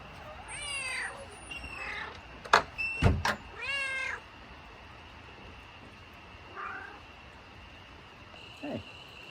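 A house cat meows repeatedly in a log cabin, a run of clear, close, insistent cries followed by a few softer, fainter meows after a pause.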